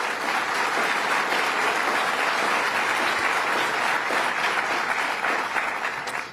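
Audience at a political budget event in Yonkers breaks into steady, sustained applause, a dense wash of clapping from a large crowd that holds evenly for several seconds without speech.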